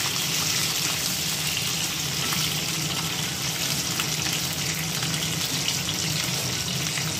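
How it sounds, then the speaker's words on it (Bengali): Pointed gourds (potol) fry in a pan in steady, continuous oil sizzle and crackle, close and even throughout with no talking. "পটলগুলো সুন্দর করে আগে ভেজে নিই"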